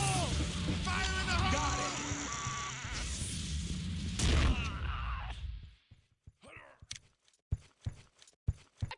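A grenade explodes in Soldier of Fortune II with a loud boom amid busy game noise and voices, after which the sound drops away to sparse, sharp clicks and taps.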